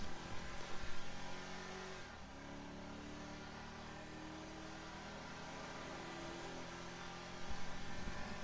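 A heavy car's engine strains to accelerate in GTA Online, a faint steady mid-pitched drone that barely climbs, with slightly louder revving at the start and end.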